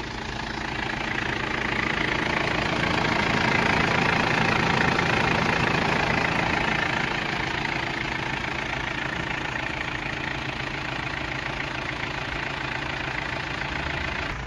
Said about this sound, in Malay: Sambil enjin running.